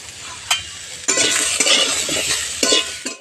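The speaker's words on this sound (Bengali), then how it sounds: "সজনে ফুলটাও এর সঙ্গে একটু হালকা করে ভেজে নেব।" Drumstick flowers frying in a pan with vegetables, a loud, close hiss and crackle that swells after one second, broken by sharp spatula scrapes and clinks against the pan; no talking.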